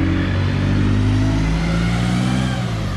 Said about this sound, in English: Sorry, that's a loud bus there.